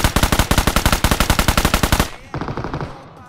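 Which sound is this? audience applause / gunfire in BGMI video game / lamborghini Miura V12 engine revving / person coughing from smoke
gunfire in BGMI video game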